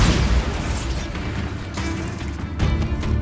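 Bombarda blasting spell in Hogwarts Legacy, a loud booming explosion with rumbling crash and debris bursts, dense and close, with further blasts near the end.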